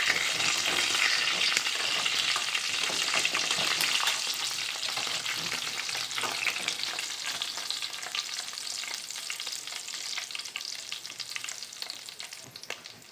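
Pomfret fish fries in oil in a pan with a dense, continuous close sizzle that slowly softens across the stretch, broken by occasional light stirring clicks and no voices.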